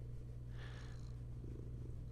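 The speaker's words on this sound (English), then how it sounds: "Can you hear her purring?" A cat purrs close up, a steady low continuous rumble lasting the whole moment, with a faint soft rustle partway through and no talking.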